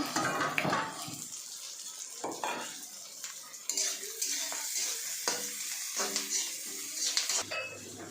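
Ginger and garlic fry in a pan while duck meat is being cooked, with a soft sizzle under repeated clinks and scrapes of a metal spoon stirring against the pot.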